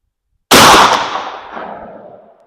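A shotgun fires a single LBC sabot slug outdoors at a range, a loud sharp blast after half a second of silence, followed by a long fading echo.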